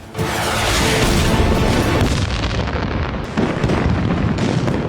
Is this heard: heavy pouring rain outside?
no